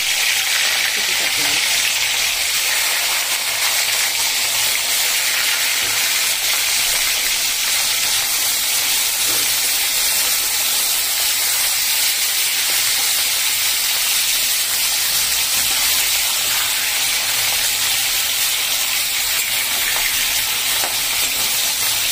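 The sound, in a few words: frying fish in hot oil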